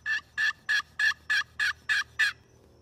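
A hand-operated turkey call imitating an Osceola turkey gobble, eight evenly spaced, strong clucking bursts in quick rhythm, close and loud, with a short quiet tail and no talking.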